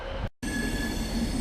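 A Class 390 Pendolino train bound for London Euston runs loud and close, with a steady roar and high whining tones, cut briefly by a short gap before the noise resumes.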